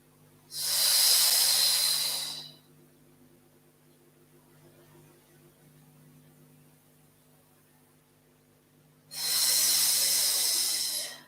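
Two long, loud exhalations during a seated Pilates stretch, each a breathy hiss lasting a couple of seconds, with a quiet pause between them and no talking.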